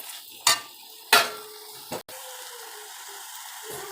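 Curry leaves and coriander sautéed in a pan for fennel seed chutney: three or four distinct spatula scrapes and knocks against the pan over a faint, steady background sizzle.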